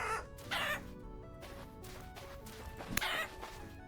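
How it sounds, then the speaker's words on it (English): Chickens clucking in the video game Vintage Story: several short, bright clucking bursts spaced through the clip, fairly close and distinct over a quiet background. "Oh, there's a lot of chickens."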